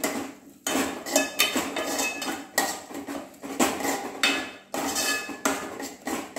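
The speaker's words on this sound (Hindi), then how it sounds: "दो मिनट हम इसको अच्छी तरीके से भूनेंगे।" Bombay duck masala is stirred and roasted in a pan, with a spatula scraping and knocking against the metal in an uneven rhythm of loud strokes and brief pauses, close and clear with no talking.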